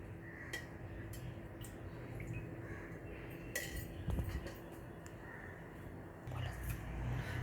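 A kadhai is set down and handled in a home kitchen while preparing chicken kofta curry, giving a few faint metallic clinks and knocks over low room noise with soft talk.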